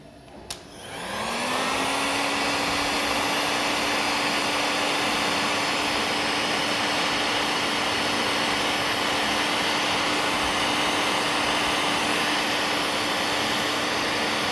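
Heat gun blowing on heat-shrink tubing over a soldered wire during a Bosch GBH18VLI cordless hammer drill repair, a steady loud whining roar that starts abruptly and holds without a break, no talking.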